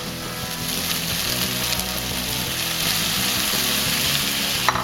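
Sausage fries in a hot pan with oyster sauce, a loud, continuous crackling sizzle with occasional stirring scrapes, close up and steady throughout.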